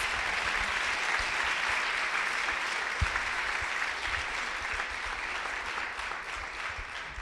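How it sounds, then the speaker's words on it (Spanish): A church congregation applauds during a bilingual Spanish and English sermon, a broad, steady stream of many hands clapping together at an even level throughout, with a single sharper knock partway through. "dan un aplauso al Señor"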